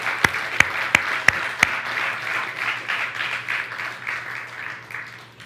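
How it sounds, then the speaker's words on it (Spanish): A church congregation claps during a worship service: a few sharp, evenly spaced claps lead off, then the applause settles into a softer, rippling patter that fades slowly. "Dale un aplauso al Señor."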